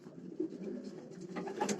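Soft, low pigeon coos rise and fall over a steady murmur of background birds, with no voices.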